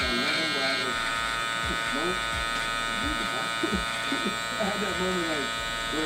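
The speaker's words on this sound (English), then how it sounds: "You go on with the clipper way close, so you could see what you need to pass the shaver on." Electric shaver buzzing steadily through coarse, straight hair during a barbershop haircut, close and continuous under ongoing conversation.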